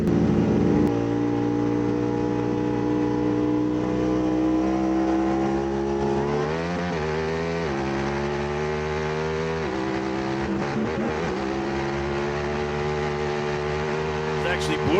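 Off-road race trucks, a Polaris and a Yamaha among them, racing at Crandon, their engines droning and rising in pitch as they accelerate and shift, a continuous loud roar with a commentator talking over it.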